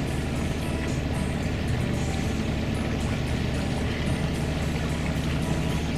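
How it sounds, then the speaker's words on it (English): A sailboat's low, steady engine idle chugs on without pause, a constant rumble with faint watery wash and no voices. "We're just idling along, charging up the batteries."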